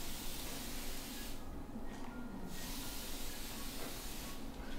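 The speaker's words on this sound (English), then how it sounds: "you will spray one round on your face first" A facial mist is sprayed onto a client's face at a facial spa in Singapore, giving a continuous soft hiss with brief pauses between bursts, quiet and close.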